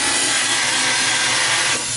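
A belt sander grinds away spot welds on a replacement car body panel, a steady, loud abrasive rasp that holds even for about two seconds before easing slightly at the end.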